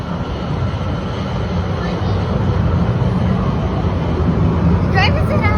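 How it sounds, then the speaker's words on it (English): Hong Kong Peak Tram funicular car pulling away, a steady loud rumble and rolling rail noise that swells slightly as it departs, with people chattering nearby and a voice near the end. "let's see the tram go off"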